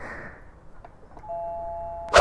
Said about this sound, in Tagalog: Doorbell ko na lang.